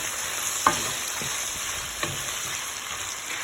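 Onions, bay leaf, cardamom, cinnamon and cloves sizzle steadily in hot oil for chana pulao, with two sharp clinks of a spoon against the pan over the constant frying hiss.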